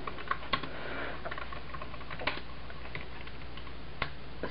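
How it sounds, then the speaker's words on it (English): Sparse, soft key taps on an Apple wireless Bluetooth keyboard paired to an iPad, a handful of light clicks at irregular intervals, close by in a quiet room. "And now, I will start typing."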